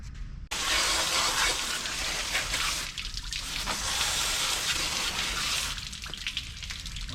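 A water spray blasting out the battery compartment of a John Deere or Case IH tractor, a loud, steady hissing gush starting abruptly and running throughout, with slight shifts as the jet moves.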